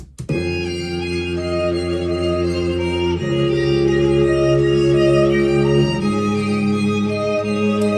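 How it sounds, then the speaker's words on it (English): Sustained strings, violins over a viola, hold long bowed chords that shift harmony every few seconds, smooth and close with no voices. "all of that together in the second verse with the glassy violins and the more certainty in"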